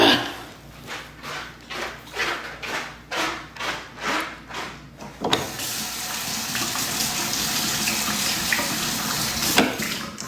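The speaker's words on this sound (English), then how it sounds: "Wash your hands." Hands washed under a running tap: rhythmic splashing pulses for about five seconds, then a steady, loud rush of water at close range.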